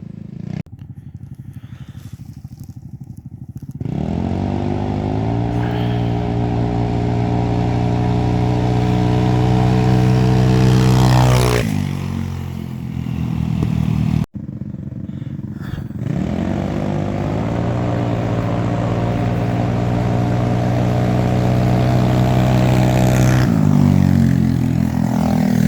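CN250 buggy and fuel-injected XRX 300 engines racing, loud and near, revving up into a long sustained high drone, then dropping off before a second run climbs again to full throttle.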